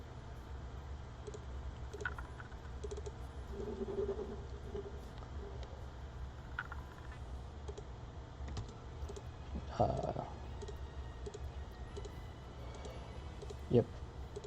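A computer mouse clicks during play of The Sims 4: sparse, soft, scattered clicks over a quiet room hum.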